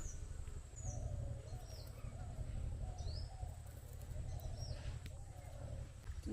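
Faint, high, descending whistled calls of a hawk at Jharkhali in the Sundarbans repeat a few times over a low, steady background hum.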